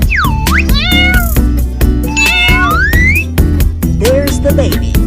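Cartoon kittens meow loudly and repeatedly, their high, sliding cries coming one after another over a steady, rhythmic musical backing.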